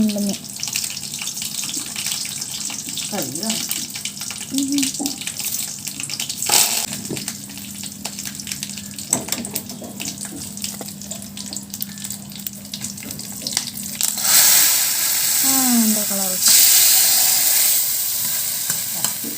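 Dried red chillies dropped into hot oil for a Kerala-style tempering give a loud, continuous sizzle and crackle, with stirring scrapes and a brief burst of water or splashing near the end, close up with no talk.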